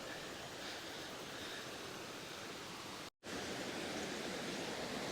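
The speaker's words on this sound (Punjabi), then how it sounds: "ਝਰਨੇ ਦੀ ਕਲਕਲ" A waterfall in New Zealand, formed by volcanic activity some 600,000 years ago and running through farmland, gives a steady broad rushing roar close by, broken once by a brief cut-out, with no voices.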